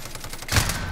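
A burst of gunfire crackles in a Call of Duty: Modern Warfare match, with a series of rapid shots at moderate volume followed by a louder, fuller blast.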